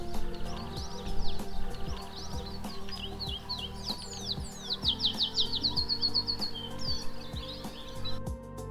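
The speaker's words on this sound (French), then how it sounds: "Un peu plus en retrait, au-dessus des cultures, les serins des Canaries se font entendre." Atlantic canaries sing above farmland on Tenerife, bright twittering trills and chirps rising in a rapid run midway, fairly faint over a soft background with insect-like buzzing.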